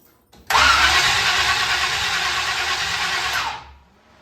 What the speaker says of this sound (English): Starter sounds good.